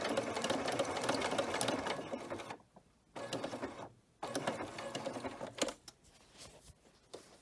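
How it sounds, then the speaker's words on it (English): A sewing machine runs steadily, stitching twine cording onto fabric in several continuous bursts of rapid mechanical chatter, stopping briefly twice before resuming and fading to lighter intermittent stitching at the end. "now we're going to just keep sewing like that"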